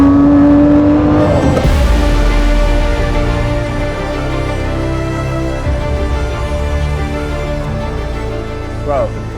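An expensive supercar engine revs loudly and close at a car club gathering, a brief high rev at the start dropping into a deep, rumbling idle that holds steady with mechanical whir throughout.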